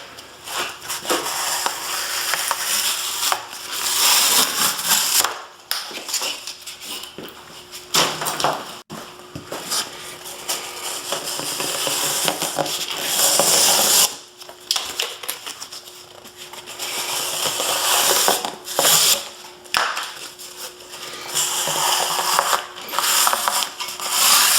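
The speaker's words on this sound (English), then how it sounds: "this next short demo is cutting cardboard." A heat-treated, quenched and tempered knife saws repeatedly through tough cardboard, giving close, loud rasping strokes in uneven bursts with brief pauses between them.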